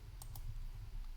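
Two quick, faint computer mouse clicks come in close succession near the start, then only quiet room hum follows.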